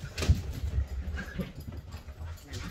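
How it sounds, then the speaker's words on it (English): Dogs indoors giving short whimpers and soft yips in quick irregular bursts, fairly close, with thumping movement around the house. "Damn it, dogs. Can you hear these dogs?"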